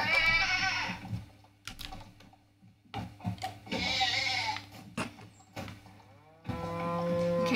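A cartoon sheep bleats in the video game Moving Out. Several loud, wavering bleats come in separate bursts with short quiet gaps between them.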